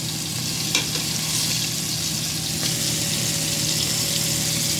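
Codfish fries in a home kitchen pan with a steady, close hiss and crackle of oil, plus a couple of brief clinks and a faint sustained hum beneath.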